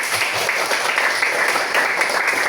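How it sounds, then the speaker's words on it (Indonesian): Students clapping in a school session, a steady, even patter of many hands with no speech over it. "Tepuk tangan sekali lagi."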